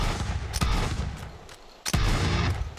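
Two heavy gunshots from the Doomslayer gun in the Borderlands 3 game, each a sharp boom with a rolling tail, about a second and a half apart over a steady rumble.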